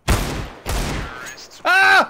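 Two loud gunshot blasts in Counter-Strike: Global Offensive, each with a decaying tail, followed by a voice shouting out.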